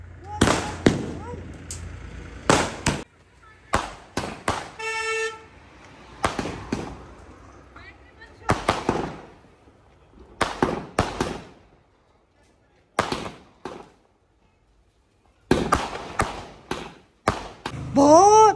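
A 100-shot fireworks cake going off at a Diwali celebration, a long run of sharp loud bangs and thumps in quick bursts with crackle between, close by, while people talk and call out over it.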